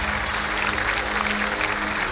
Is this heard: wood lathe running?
no